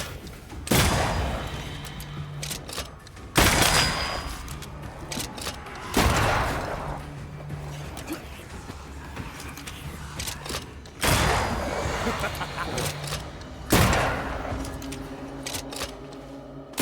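Gunfire in the game Banishers: Ghosts of New Eden, with about five loud, sharp shots spaced a few seconds apart, each ringing out over a low rumbling ambience.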